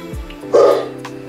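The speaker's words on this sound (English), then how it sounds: "What a good dog." A single short, close dog bark, loud and sharp, heard indoors over faint background hum.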